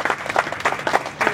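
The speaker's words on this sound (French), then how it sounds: "Il faut applaudir." Close, uneven clapping at a youth trophy ceremony, a few hands beating in quick irregular bursts over a short stretch.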